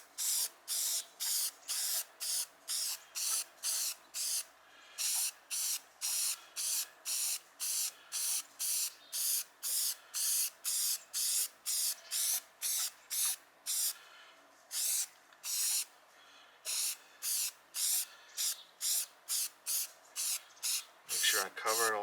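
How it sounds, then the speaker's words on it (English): A Rust-Oleum aerosol spray can hisses in many short, rhythmic bursts, one after another in a steady pattern, close by, spray painting an Easter bunny decoration. "I'm just going to go ahead and spray this bunny down good."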